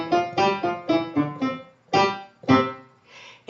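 Piano notes played staccato, crisp and detached: a moderately quiet string of short, separated notes with clear gaps between them, each note clipped off quickly, and no talking.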